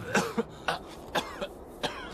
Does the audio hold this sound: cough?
yes